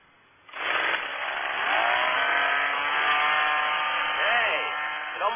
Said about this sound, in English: high torque gas-powered hedge trimmer.